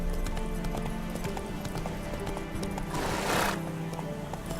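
Roach the horse from The Witcher 3 game gives a whinny over steady clip-clop hoofbeats, with a brighter burst near the end and faint voices mixed in.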